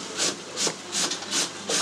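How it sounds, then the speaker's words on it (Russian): Vegetables rubbed on a hand grater in rhythmic back-and-forth strokes, about five rasping scrapes at an even pace, close and fairly quiet. "а бабка на терке все трет"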